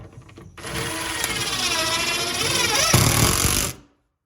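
A power tool drives screws through a bathroom vanity cabinet into the wall, a steady loud whir lasting about three seconds that rises slightly in pitch before stopping abruptly, with a brief clatter at the start.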